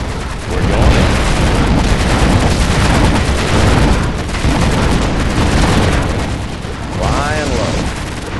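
Comanche attack helicopter firing in Command & Conquer, a USA versus Russia battle, with dense, continuous bursts of gunfire and booming impacts running loud throughout, along with some rotor-like sweeps near the end.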